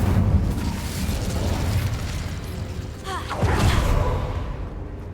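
A fire spell cast in Hogwarts Legacy produces a loud rushing, roaring burst of flame with a whooshing swell near the middle, sustained over a deep rumbling bed for several seconds.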